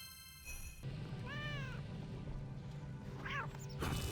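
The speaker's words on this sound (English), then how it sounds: "There's a cat nearby." A cat meows in the video game RuneScape 3, two distinct tonal meows about two seconds apart. They play over a steady ambient hum of game background sound, with no talking.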